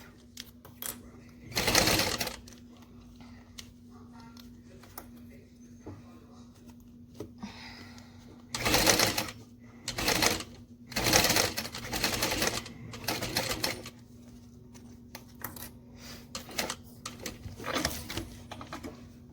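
A sewing machine sews a strap in several separate bursts of rapid stitching, loud and close, with quiet handling and pauses in between over a low steady hum.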